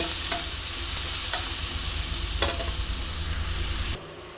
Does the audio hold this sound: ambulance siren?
no